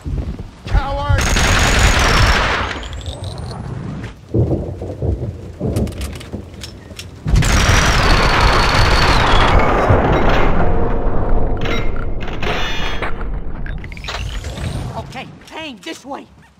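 Gunfire rages through a Max Payne 2 firefight, dense rattling bursts roaring loud and close almost without pause, with brief drops between volleys.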